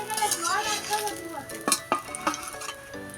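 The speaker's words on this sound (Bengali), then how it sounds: "তার জন্য পনিরটাকে হালকা করে আমি ভেজে নিচ্ছি" Paneer fries lightly in a pan with a soft sizzle, punctuated by a few sharp clinks and scrapes of stirring against the metal, close and moderately loud.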